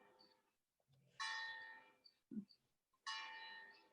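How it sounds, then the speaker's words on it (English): Distant church bells ring in two clear strikes with a long shimmering decay, separated by a quiet gap, with a brief low thump between them; faint overall. "Nice to listen the bells."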